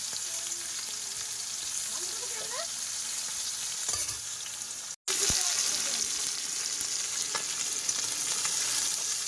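Fish frying in a pan with a dense, continuous close sizzle, occasional stirring clatter, a very brief cut midway, and faint background voices.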